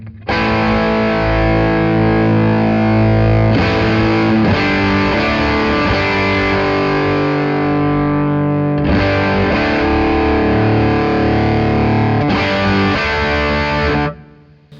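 Heavily distorted electric guitar through a plexi drive overdrive pedal, playing sustained chords and riffs, loud and saturated, with a brief pause partway through before ending abruptly.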